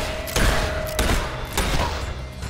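Gunfire in the Fable III video game, three heavy shots spaced roughly half a second apart over a loud, dense game soundscape.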